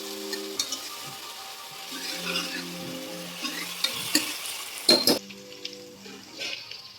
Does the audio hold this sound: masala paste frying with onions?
yes